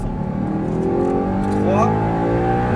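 Audi R8 accelerating at full throttle on the Marcoussis track, heard from inside as a loud, steadily rising engine drone with a whirring pitch climbing through the gear.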